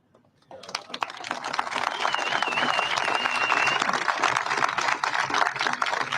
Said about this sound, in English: all the rest of these fans of violent crime cheer in the background